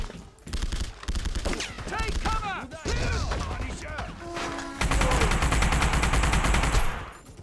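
Rapid gunfire in the Punisher video game, dense automatic bursts and rattling shots that run almost continuously and get louder and denser toward the end, with a voice speaking briefly among the shooting.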